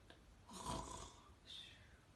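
A voice imitates snoring during a bedtime reading of The Gruffalo's Child, a soft nasal breathy snore followed by a shorter quieter one, faint and close.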